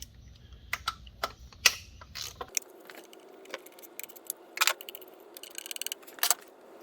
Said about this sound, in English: Now you can grab a 12mm socket and unbolt the fuel rail.